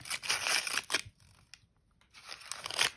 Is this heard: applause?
no